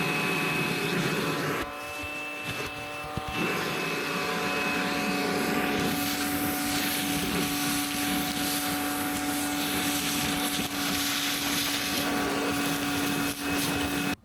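Vacuum cleaner whining steadily inside a 4x4 truck camper being cleaned, loud and close, with its pitch and airflow shifting as the nozzle moves and briefly gets blocked.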